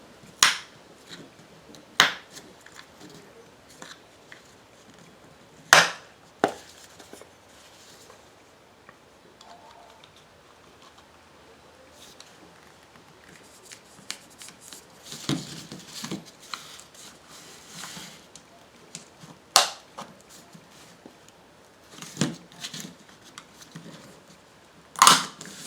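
Screwdriver twisting in the gaps to crack off the epoxied lid of a Toyota door actuator, sparse sharp clicks and cracks spread over a quiet stretch, with scraping in between.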